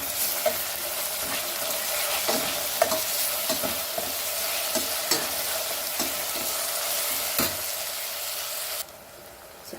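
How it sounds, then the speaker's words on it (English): Tomatoes cooking in a pan for a Goan chicken curry, with a steady close sizzle and intermittent scraping taps of a spoon stirring, then an abrupt drop to quiet near the end, no voices. "Now I will add the tomatoes. And cook this till tomatoes get nicely soft."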